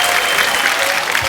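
Audience applause at a comedy show, a dense steady clapping from a live crowd that fills the short clip at full strength without a break.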